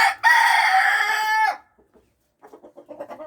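A loud, drawn-out rooster crow fills the first moment, then a short pause before soft, rhythmic hen clucking follows.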